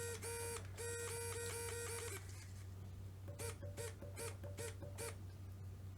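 An AGFRC SA81FHMW high-voltage RC servo runs at 8.4 volts, giving a harmonic whine in short repeated bursts: one long sweep, then several quick back-and-forth pulses over a steady low hum.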